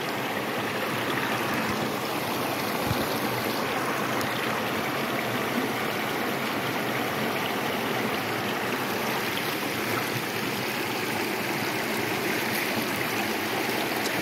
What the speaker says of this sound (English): trying to empty the snuffer bottle one-handed while holding the camera is not easy